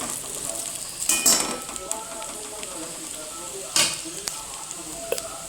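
Sago pearls stir-fried in a pan for sago upma, with a steady close sizzle running throughout and two louder scraping bursts as a spatula turns the mixture, plus a few light clinks.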